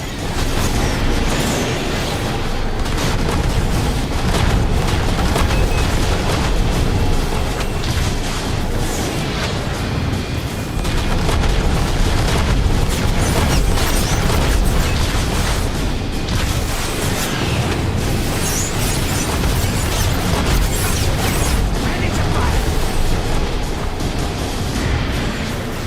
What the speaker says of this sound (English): Watch out for those rockets!